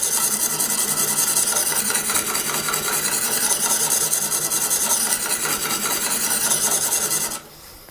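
A Western Tanto knife edge scraping steadily along the stone of a Tsprof Pioneer guided sharpening system, a continuous close rasping of rapid back-and-forth strokes that stops abruptly near the end.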